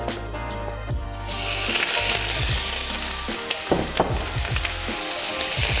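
A Sambuca-infused ribeye steak sears in a hot pan, beginning with a hum and a few clicks before a loud, steady sizzle takes over, punctuated by occasional sharp pops and crackles.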